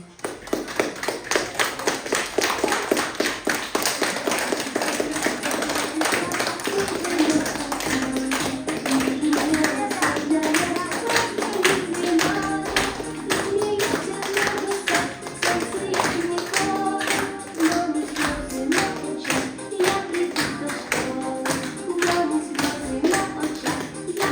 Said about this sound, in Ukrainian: Зустрічаємо їх оплесками